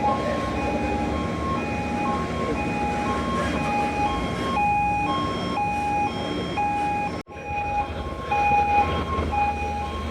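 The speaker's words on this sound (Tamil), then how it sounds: "நம்ம வண்டிக்கு நடுவில் ஆர்டிஜி கிராஸ் ஆகுதுப்பா." An RTG container crane crossing a port yard near a truck waiting to load a box, a continuous heavy rumbling drone with a repeating high warning tone beeping over it, fairly close.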